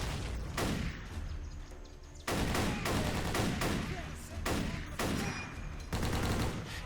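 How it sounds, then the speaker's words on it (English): Rapid video game gunfire cuts down an ongoing wave of enemy soldiers in repeated sharp bursts, dense and loud with short gaps between volleys. "It's pretty fun to just mow this ongoing wave of enemies down."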